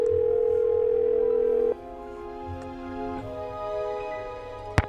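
A telephone dial tone hums steadily from a Nancy Drew mystery game, then cuts off into a quieter electronic backdrop with a few faint clicks and a sharp tap near the end.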